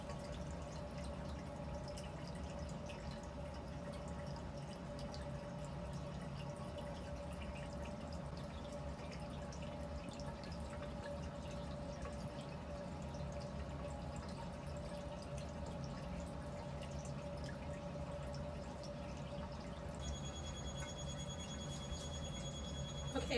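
Condensed vapor dripping from a reflux condenser back into a round bottom flask on a lab hot plate, steady quiet drips over a constant low hum, with no talk.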